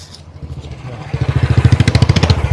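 A motorcycle engine catches and runs with a rapid, pulsing throb that grows louder and steadier over a couple of seconds, heard close by with no talking.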